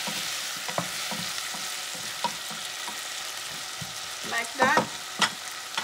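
Ginger and garlic stirred into a frying pan with jalapeño for Ethiopian firfir give a steady close sizzle broken by scraping stir strokes, with a brief spoken remark near the end.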